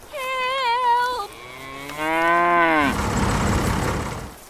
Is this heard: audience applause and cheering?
no